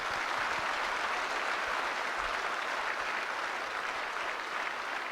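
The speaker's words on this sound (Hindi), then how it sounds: "जोरदार तालियां दीजिए दोस्तों, जोरदार तालियां दीजिए।" Steady, full crowd applause at a stage show, a dense wash of clapping that holds at an even level for the whole stretch without any voices on top.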